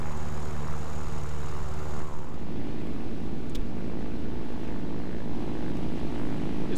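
A LaGG propeller fighter's engine drones at full throttle in War Thunder, a loud constant roar that shifts to a rougher, lower timbre partway through and stays steady without talk.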